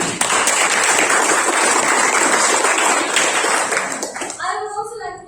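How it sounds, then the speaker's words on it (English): Audience applause at a club officers' installation ceremony, dense steady clapping from many hands that fades over the last second as a voice begins speaking. "Can we hear a big round of applause for that, please?"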